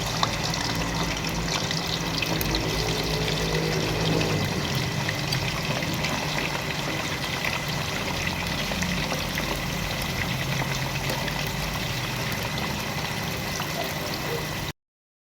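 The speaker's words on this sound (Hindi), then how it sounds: "हमारा बीफ जो है वो ज़बरदस्त सा फ्राई हो रहा है।" Beef sizzles in hot oil for a karahi, a steady, dense crackling hiss that holds close and even throughout.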